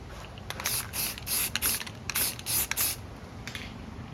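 Spray can being applied to thick wood, heard as a series of short hissing bursts and sprays, some in quick succession, close and moderately loud with no voices.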